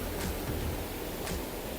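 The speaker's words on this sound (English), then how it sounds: "The river whose noise you can hear" The Radovna river rushing through Vintgar Gorge in Slovenia, a steady broadband roar of flowing water, close and constant with no voices.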